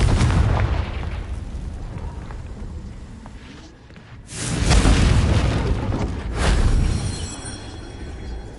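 A Confringo blasting spell bursts against rocks in Hogwarts Legacy, giving two loud booming explosions with rumbling tails over a steady background roar.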